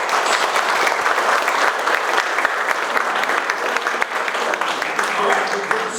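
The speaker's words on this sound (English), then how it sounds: "let's start off with a round of applause" Audience at a Select Board candidates night meeting applauds steadily for about six seconds, a dense indoor roomful of clapping with no break.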